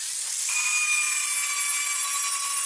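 A power tool whines at a steady high pitch, close and continuous, as leftover spot welds are ground off the steel body of a Citroën Traction 11B, then cuts off abruptly at the end.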